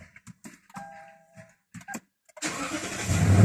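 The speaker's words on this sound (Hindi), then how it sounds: "गाड़ी में एक बार फिर बंद करके स्टार्ट करता हूँ" A Lexus 570 SUV, being checked for an airbag sensor fault, cranks and fires up after a few soft clicks and chimes, settling into a loud close idle.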